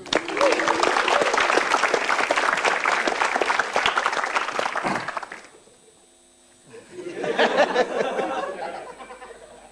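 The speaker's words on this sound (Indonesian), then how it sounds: "Beri tepuk tangan untuk Jui." A comedy show audience breaks into loud, dense applause with some chatter and laughter, fading to near quiet before a second, shorter burst of clapping rises again.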